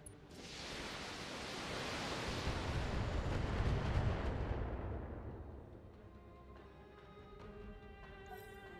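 Weapons fire erupts from a starship's locked-in weapon systems: a loud, sustained roaring blast that swells over several seconds, then fades into a humming electronic bridge ambience with faint tonal beeps.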